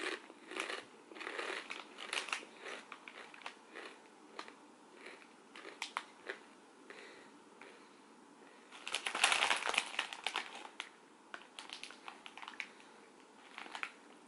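Crunching on everything bagel with cream cheese flavored potato chips, with a run of crisp, close bites and crackles that grows louder and denser near the middle, then fades into softer chewing.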